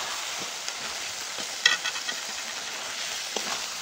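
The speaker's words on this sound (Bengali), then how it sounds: "এবার কাঁকড়াগুলো মশলার সঙ্গে ভালো করে কষিয়ে নেব।" Live river crabs are stir-fried with spice paste in a pan, giving a steady close sizzle with occasional scraping stir strokes and small pops.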